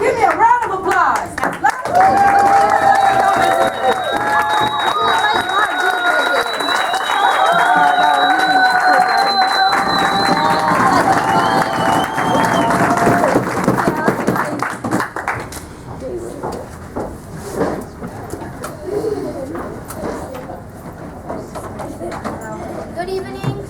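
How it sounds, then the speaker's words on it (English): An audience at a Toastmasters club speech meeting breaks into applause and cheering, a loud crowd roar with clapping and raised voices that thins out and fades toward the end. "So please, give me a round of applause."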